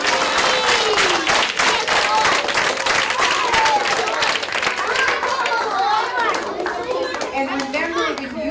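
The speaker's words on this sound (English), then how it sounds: "Can we give Pirate Jody a big round of applause?" An audience, children among them, applauds Pirate Jody with a burst of dense, close clapping. Excited chatter and young voices mix in and rise over the clapping as it fades.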